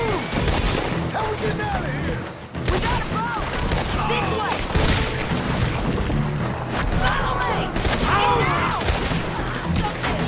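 Rifle gunfire rings out in a Red Dead Redemption 2 shootout, with dense, overlapping shots and crashes layered in a continuous loud battle mix, alongside voices.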